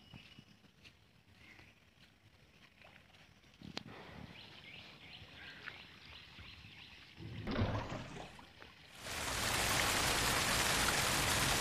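Heavy rain falls steadily while water runs along a flooded street, the rushing growing much louder and broader in the last few seconds.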